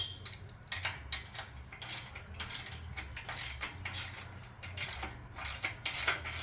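A wrench ratchets on a bolt of an ALTA SOLO roof rack basket, giving quick bursts of metallic clicking in irregular runs, close and fairly clear over a low steady hum.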